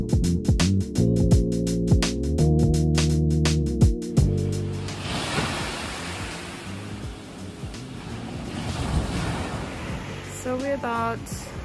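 Surf washing onto Pandanan Beach in Lombok, a broad, rolling wash of waves close by. A loud rhythmic music beat plays over the first few seconds, then the sea carries on alone.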